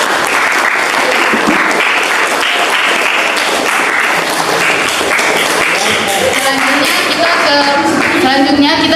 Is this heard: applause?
yes